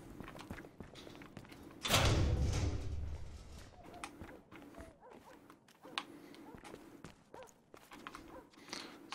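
A door slams shut once with a loud thud in the Battlefield Hardline video game, followed by soft footsteps and faint shuffling clatter in a quiet room.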